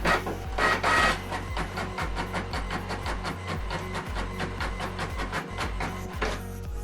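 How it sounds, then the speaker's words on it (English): A printer prints a double-sided black and white page, making a steady rapid mechanical ticking and whirring with rhythmic clicks, close and alone, with a louder feed burst at the start. "So we are printing double-sided, black and white, or monochrome if you like."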